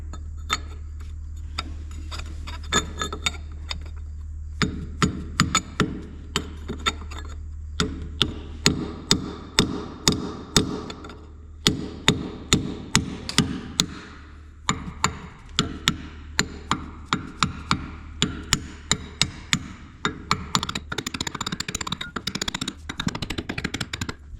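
A brass hammer strikes a 1045 steel part on a Hitachi EX100 excavator in quick rhythmic runs of sharp metallic taps, close and loud, over a steady low machine hum.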